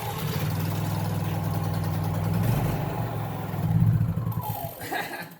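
A BMW S1000RR sport motorcycle engine settles into a steady mid-pitched idle, close and continuous, with brief laughter and voices mixed in.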